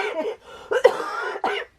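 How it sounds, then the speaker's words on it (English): A few harsh coughs close up, in separate bursts with short pauses between them. "So I have this cough."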